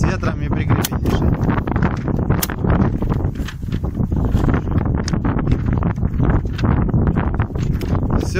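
Outdoor wind buffets the microphone at a 100-metre shooting range with an IZh-60 air rifle, a constant rough rumble with gusty swells running throughout, while voices talk intermittently over it.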